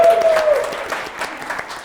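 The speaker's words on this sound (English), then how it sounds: "Please give a round of applause for Ryley," A studio audience at a Portsmouth show claps for presenters, warm and continuous, starting strong and easing slightly while a few louder claps stand out.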